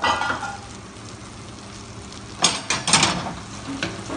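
Butter hits a hot pan for onion soup and sizzles, with a quiet frying hiss under scraping and a few sharp crackling bursts late on, close and moderately loud, no talk.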